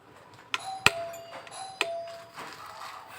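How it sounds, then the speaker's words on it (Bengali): A newly fitted electronic calling bell on the second floor of a house chimes a few short tonal notes, each starting with a sharp click, fairly faint and nearby in a quiet room. "তো নতুন কলিং বেল লাগানো হয়েছে"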